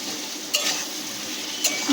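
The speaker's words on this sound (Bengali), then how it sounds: "দেখো খুব সুন্দরভাবে কষানো হচ্ছে" Spiced masala with softened tomatoes hisses steadily as it is sautéed in a pan, with a couple of brief spoon scrapes.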